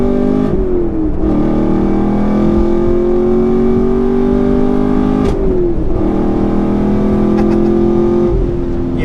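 Chevrolet Camaro SS 1LE with a manual gearbox accelerating hard, its engine note climbing loudly through the gears with brief dips at each shift, close and steady throughout with no talking.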